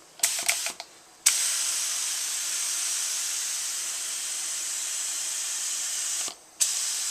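A spray gun applies Duracoat finish to an AR rifle lower receiver in long, steady bursts of close hissing spray. Brief clicks come first, then one sustained hiss that cuts off and quickly resumes.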